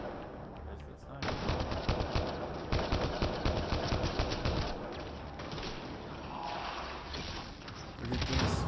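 Sustained gunfire from a firefight in Mass Effect Andromeda, a dense stream of rapid shots with sniper fire among them, steady and fairly loud from start to finish.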